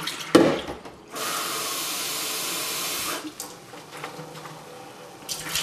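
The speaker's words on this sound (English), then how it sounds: "now we're going to open the tank up and dump the liquid out" Dirty liquid from a Bissell rug carpet cleaner's tank pours into a sink in one steady, fairly loud gush of about two seconds, then trickles off, with a brief clatter just before.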